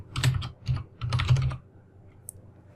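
Quick bursts of keystrokes on a computer keyboard while coding in GameMaker Studio, a few clustered clicks with short pauses, then near silence with one faint tap at the end.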